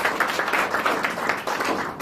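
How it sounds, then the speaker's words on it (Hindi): Applause from an audience welcoming top leaders at a marketing business meeting in Balotra, Rajasthan: dense, steady clapping from a crowd that continues evenly for about two seconds. "तो एक बार जोरदार तालियों से आप स्वागत करिए"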